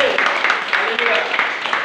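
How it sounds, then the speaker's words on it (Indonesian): A church congregation claps in quick, rhythmic bursts, close and fairly loud, with voices mixed in under it. "Tepuk tangan buat dia."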